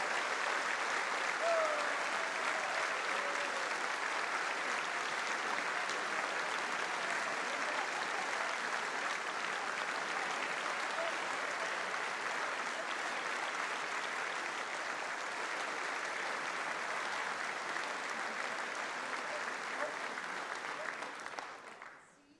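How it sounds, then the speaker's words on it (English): Sustained applause from a packed chamber in Congress, a dense, even wash of clapping that holds steady and fades out at the very end. "More applause."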